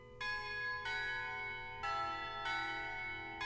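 Church bells ring out a slow melody in a cathedral scene of the game Shadows Over Loathing, bright tuned strikes arriving about once a second and ringing on with long overlapping decay over a soft low background, no voices.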